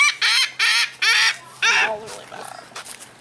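Birds at Flamingo Gardens, such as ducks, geese or gulls, call in several loud honking bursts while being fed, with quieter chatter and people's voices in between.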